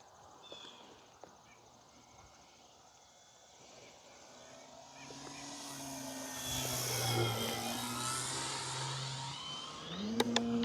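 A Hangar 9 PT-19 radio-controlled airplane, a 1435 mm model flown on 4S or 6S power, passes overhead with a faint motor drone that swells louder and then fades. Brief clicks and handling noises come near the end.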